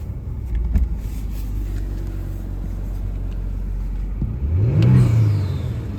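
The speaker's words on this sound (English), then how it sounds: "We're gonna do a quick rev test." A Kia Stinger GT2 AWD with about 143,917 miles idles with a low rumble, then a short sharp throttle blip sends the engine climbing and settling back, loud and close.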